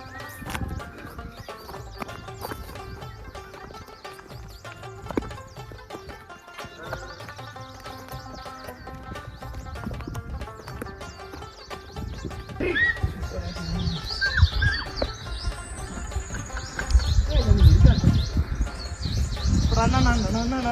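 Horses in a mountain pasture give hoof clip-clops and a whinny among birdsong, with people talking throughout and the animal sounds growing louder toward the end.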